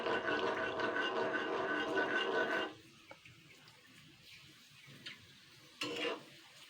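Rice flour papad dropped into hot oil, a dense loud sizzle that cuts off abruptly, followed by quieter faint bubbling with a brief sizzle burst near the end, no speech.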